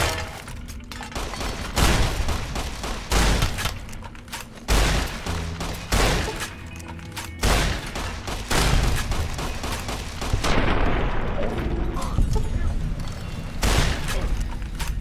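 Dense bursts of gunfire in the video game Fallout, repeated volleys and single loud shots spread across the whole stretch, with booming impacts and no talk over them.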